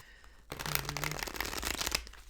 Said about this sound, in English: let's give it a couple more shuffles